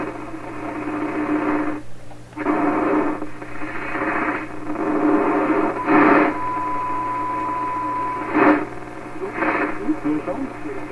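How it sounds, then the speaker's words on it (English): A 1928 RCA Victor 28V radio connected to a wire antenna gives off a steady hiss and hum of noise with little signal, broken by brief dropouts and crackling bursts, with a thin whistle-like tone partway through. "this wire is really full of noise without a lot of radio signal"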